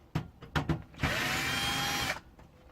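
A power drill working on an old PC gives a few short clicks and taps, then one loud, close whirring burst lasting about a second before it stops.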